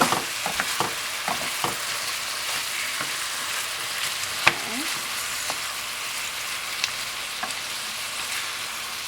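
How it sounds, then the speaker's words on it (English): Pesto pasta ingredients sautéing in a pan, seasoned with garlic powder, salt and pepper, give a steady close sizzle and frying hiss throughout, broken by a few soft clinks and stirring taps. "We're going to saute this all up."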